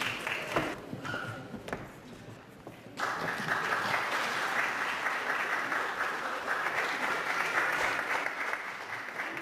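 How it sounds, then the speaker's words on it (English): A crowd at an International Women's Day celebration in Canada breaks into sustained applause, starting with a few scattered claps that swell into steady, dense clapping lasting several seconds. "So I would like to applaud"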